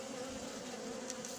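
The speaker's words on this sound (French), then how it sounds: "J'essaie de filmer des abeilles noires." Black bees buzz around sugar near an anti-hornet tent. A steady, close insect drone with a continuous hum runs through the whole short moment.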